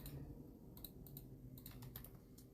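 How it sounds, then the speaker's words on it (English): Someone types on an ordinary office computer keyboard, a quiet close run of irregular key clicks in small bursts over a low steady hum. "I got a keyboard right now. It's the same keyboard."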